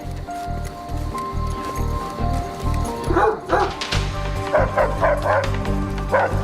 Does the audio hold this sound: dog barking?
yes